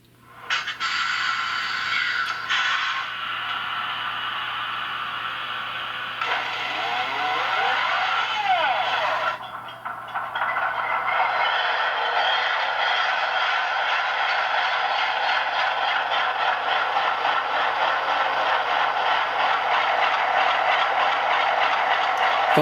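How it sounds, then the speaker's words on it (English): Bowser HO Alco Century 630 model locomotive sound unit playing its diesel engine startup sequence: a loud, continuous rumble with a few shifts, then settling into a steady, buzzy idle. "Function 8 unmutes the sound and plays the engine startup sequence."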